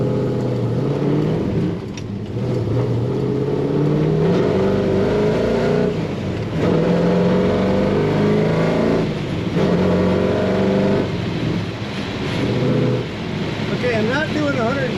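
A 1967 Chevrolet Chevelle restomod with a 572ci V8 and five-speed manual accelerates on the road, its engine a loud, continuous roar rising and falling through gear changes, heard from inside the car.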